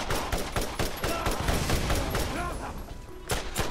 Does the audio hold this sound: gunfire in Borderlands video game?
yes